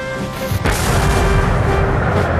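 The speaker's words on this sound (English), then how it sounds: "Napoleon ordered a barrage of his most powerful cannon" A Napoleonic cannon barrage booms with heavy, continuous rumbling, loud and close, with blasts overlapping into one sustained roar and no talk.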